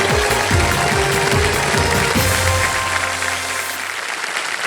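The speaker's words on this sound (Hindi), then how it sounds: "जोरदार ताली एक बार फिर से मिथिलेश कुमार जी के लिए।" Studio audience at a televised quiz show breaking into loud, dense applause that holds strong for several seconds, then thins out, with an engine-like musical drone sliding underneath.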